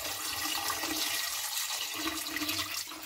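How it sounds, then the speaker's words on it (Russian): Water pours steadily into a 5-liter pot holding beef, with a rushing, gurgling sound for a few seconds, close and fairly loud. "Доливаю воды."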